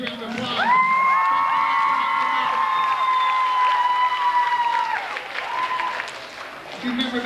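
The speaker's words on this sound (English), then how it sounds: "let's give the cross-country team a nice round of applause" A school pep rally crowd applauds and cheers for the cross-country team, loud and sustained, with whoops, a long sustained whistle or shout, and children's voices rising over the clapping before it tapers.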